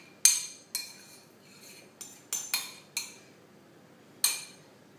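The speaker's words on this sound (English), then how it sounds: "I'm adding this mayonnaise and chocolate to the eggs and sugar" A fork strikes and scrapes against a bowl in sharp, separate clinks while mayonnaise and chocolate are mixed into eggs and sweetener, the taps irregular and close with quiet gaps between them.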